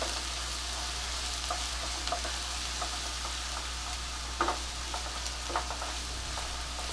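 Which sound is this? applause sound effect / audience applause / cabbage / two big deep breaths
cabbage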